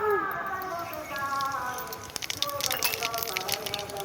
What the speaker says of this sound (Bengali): সর্ষের তেলটা গরম হলে বাকি মশলা দেবো। প্রথম কালো জিরে দিয়ে দেবো।